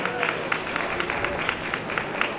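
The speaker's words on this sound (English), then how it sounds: "Another round of applause for Kodenkan Center." Audience applause rises from a crowd at the main stage of the Tucson Japanese Festival, a steady wash of many hands clapping at moderate distance, with sharper individual claps poking through.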